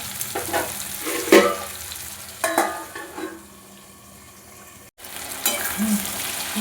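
Taro, potato and a large chopped tomato cooking in a pan for a fish curry, bursts of sizzling and stirring clatter, then a quieter simmer and a lid knock before more frying.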